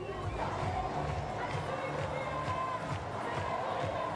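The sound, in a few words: crowd at Olympic flame arrival in Marseille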